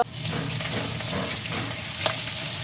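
Bata fish frying in oil in a pan, a steady close hiss and sizzle with a few faint pops throughout.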